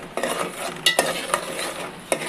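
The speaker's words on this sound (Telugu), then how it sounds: "ఈ ఆయిల్ సపరేట్ అయ్యేంత వరకు ఈ మసాలాని బాగా డ్రై చేయాలి" Masala is stirred and dry-fried in oil in a pan, a close sizzle under quick scraping strokes and a few metallic taps of the spoon against the pan.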